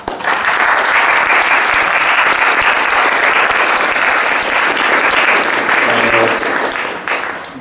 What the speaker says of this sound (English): a round of applause if you will.